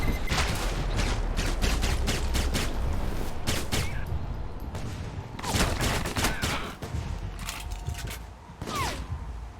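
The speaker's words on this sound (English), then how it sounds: "The noise from those fireworks should cover the sound of gunfire." Gunfire and fireworks in the video game Alpha Protocol, with bursts of rapid shots and sharp bangs coming in irregular clusters over a steady background rumble, moderately loud.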